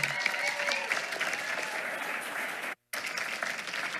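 Steady, full applause from an audience honoring a teacher of the month, continuous crowd clapping with one brief cut partway through.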